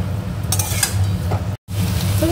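Jackfruit pieces being stir-fried with spices in a pan, a steady sizzle with utensil scrapes and stirring clatter, close and continuous, briefly cut off midway before resuming.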